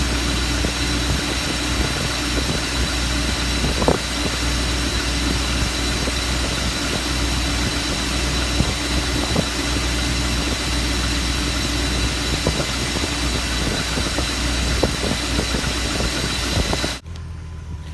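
A BMW E34 540i with its M60 V8 engine idles steadily, a close, even rumble that holds the whole way through before cutting off abruptly near the end.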